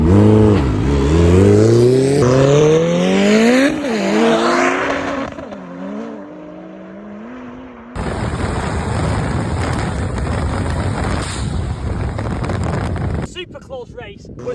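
A 1000-horsepower Ariel Atom drag races a Nissan Skyline, engines roaring loudly as they accelerate from a standing start, then a steady, dense rush of engine and wind noise close to the microphone.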